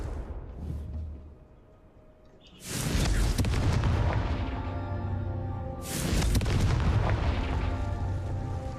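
A Confringo fire spell explodes in a video game, a loud blast bursting in about a third of the way through and a second one following a few seconds later, each leaving a roaring, crackling tail over a low rumble.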